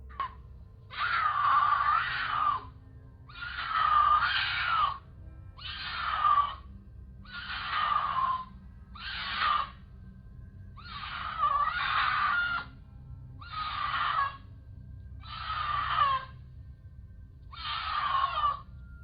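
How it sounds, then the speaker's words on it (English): A mountain lion screaming outdoors: a series of about nine loud, drawn-out wailing cries, each lasting about a second, repeated at a fairly regular pace over a low background hum. "A mountain lion's scream, for example, might sound like someone calling for help"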